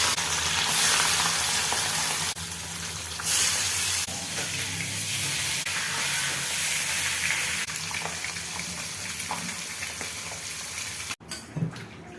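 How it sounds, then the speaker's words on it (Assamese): Fish pieces fry in oil in a kadai in a home kitchen, giving a steady, dense crackling sizzle that runs loud and close throughout with a few brief shifts in intensity and no talk. "মই কেৰাহীত তেল দি মাছখিনি ফ্ৰাই কৰি লৈছোঁ"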